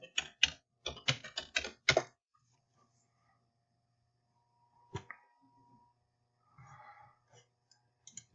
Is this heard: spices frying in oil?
no